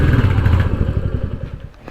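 Royal Enfield Classic 350 single-cylinder engine thumping while riding, a loud, close, rhythmic low pulse that eases slightly toward the end.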